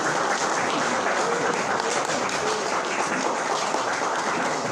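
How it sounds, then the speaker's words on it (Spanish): A large audience at an ideological training school breaks into loud, dense applause, a steady roar of many hands clapping together without pause. "Palmas, compatriota, palmas, por favor."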